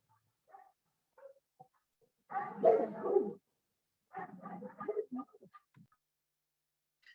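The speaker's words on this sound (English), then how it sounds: "Sorry for the chorus of dogs in the backgrounds." Several dogs bark in the background, a loose chorus of yips and barks in two bursts with gaps between them, faint and somewhat distant.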